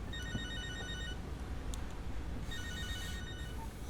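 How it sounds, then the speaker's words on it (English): A cell phone rings with a bright, repeating electronic tone in two bursts separated by a pause, fairly quiet over a steady background hiss, with no one speaking. "Cell phone."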